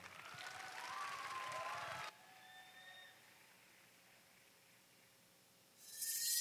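Applause from an audience at a cultural night event welcomes a dance act, a dense wash of clapping for about two seconds before cutting off to a quieter room with faint tones.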